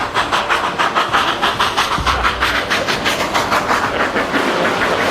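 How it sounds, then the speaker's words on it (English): A train rolls past on a mountain railway in Colorado, wheels beating out a steady, rapid clickety-clack close by, with a continuous rumble and hiss underneath throughout. "The train is about to pass me."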